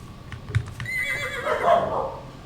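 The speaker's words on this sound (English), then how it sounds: "Hey, horsey." A horse in a haunted Garry's Mod map gives a loud, close whinny that rises and falls, preceded by a few hoof clops.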